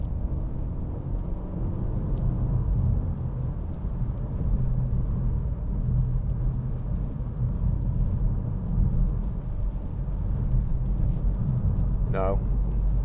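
A 2009 BMW 318d diesel sedan with automatic gearbox accelerates along a road, a low steady engine and road rumble from inside the cabin with a voice talking over it.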